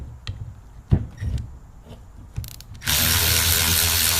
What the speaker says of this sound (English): 10 millimeter ratchet. And let's watch the rust fly.